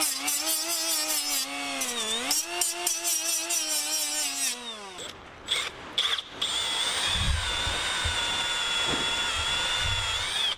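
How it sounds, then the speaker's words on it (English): Power drill boring through a square-body truck's steering column bracket: a loud, close, whining motor that dips and climbs in pitch under load, then stops and restarts with short bursts and clunks, ending in a steady high whine. "So let's drill these out and see what they look like."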